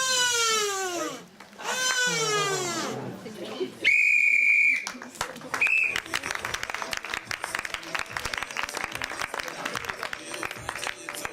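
A referee's whistle at an improv theatre match gives a loud, steady shrill blast, then a shorter second toot. Applause and crowd noise from the audience surround it, and a voice is heard near the start.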